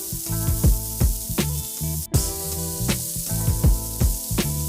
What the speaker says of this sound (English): Direct heat, we're gonna get a nice char on it.